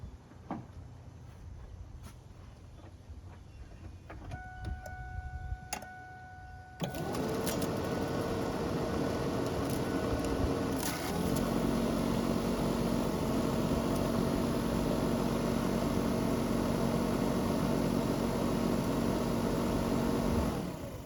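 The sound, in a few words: blower motor running in a 1999 Ford Ranger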